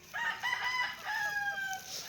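Chickens sound close by, with a rooster's drawn-out crow and some clucking in a short, clear burst.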